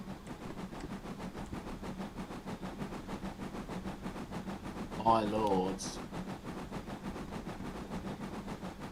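A non-diesel heritage train runs on the Mid Norfolk Railway with a steady, rhythmic clatter and low rumble throughout, and a voice speaks briefly partway through.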